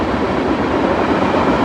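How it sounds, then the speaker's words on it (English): A train passes close by along a greenway trail in Murfreesboro, Tennessee, with a loud, steady broadband rumble of rolling rail cars that holds constant throughout, no voices over it. "this train."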